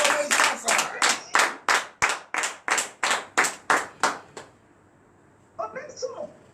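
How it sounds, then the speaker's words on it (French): A congregation at a morning church prayer claps in unison, about a dozen loud rhythmic beats in steady time, then stops, and a voice speaks briefly afterward. "Donnez l'acclamation à Jésus."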